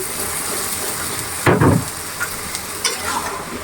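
Eggplant tipped into a spice paste frying in a pan for a rohu fish curry, giving a sudden loud burst of sizzling and stirring over a steady background frying hiss, with a few smaller clatters afterward.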